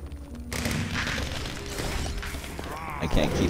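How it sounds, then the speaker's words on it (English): Firework explosions in the Minecraft Dungeons video game crackle and boom in a dense, continuous barrage, loud and busy from start to finish, with game effects mixed in and voices talking over parts of it. "All the fireworks."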